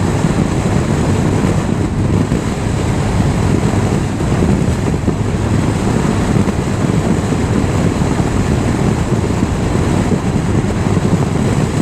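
Wind roars over a motorcyclist riding long straight roads on the way to Kilpisjärvi: a loud, constant, close buffeting rush with low rumble, steady throughout, with no voices.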